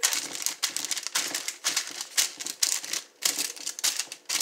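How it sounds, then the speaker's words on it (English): Burger patty pressed flat on parchment paper, giving a run of sharp crinkling, crackling bursts that repeat in an uneven rhythm, close and fairly loud with no talk. "Smash it on parchment paper."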